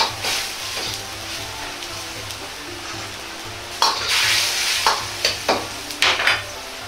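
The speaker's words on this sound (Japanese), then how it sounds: "エリンギを入れ煮ていきます。" King oyster mushrooms simmering in oyster sauce in a pan, a steady close bubbling sizzle with several louder stirring scrapes and splashes toward the end, no talking.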